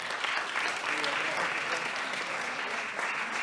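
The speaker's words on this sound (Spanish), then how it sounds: "Para ellos, un aplauso, por favor." An audience at a panel discussion on low fertility in Uruguay applauds the invited guests, a sustained, even burst of clapping from a full room, with a faint voice mixed in.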